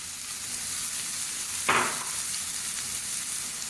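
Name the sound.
vegetables frying in a pan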